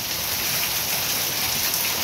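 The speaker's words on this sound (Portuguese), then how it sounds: "Chuva abençoada por Deus." Rain pouring steadily onto a backyard in the northeastern Brazilian backcountry, a dense even hiss of falling water, close and uninterrupted, with no voices.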